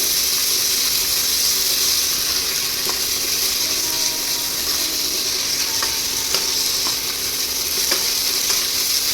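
Potatoes with ginger and garlic paste sizzle steadily in a hot pan for a Bengali potato curry, a constant close frying hiss with occasional faint scrapes of a spatula, no voices.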